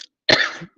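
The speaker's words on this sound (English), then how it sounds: "Excuse me, I was trying not to cough." A single sharp, close cough from an adult, loud and abrupt with a short rough tail, standing alone in otherwise quiet surroundings.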